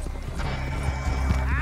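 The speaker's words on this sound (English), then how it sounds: "Oh, that bitch took off on that horse." Horse in Red Dead Redemption 2 Online, with hooves clopping in an uneven gallop and a brief neigh near the end, moderately close as someone talks over it.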